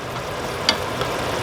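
Frozen spinach cooks in a pan over medium to low heat, giving a steady, soft sizzle and faint crackle throughout, with one brief sharper tick partway through and no voices.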